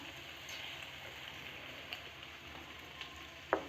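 Peas and potatoes frying in a pan for an aloo matar jeera dish, a quiet steady sizzle and crackle throughout, with a few soft ticks and a brief sharp clink near the end.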